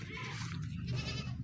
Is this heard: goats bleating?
yes